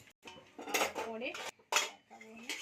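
A metal lid clatters onto a cooking pot of spiced chicken for biryani, giving several short, ringing clanks and scrapes in quick succession, close and clear, with brief silent gaps between.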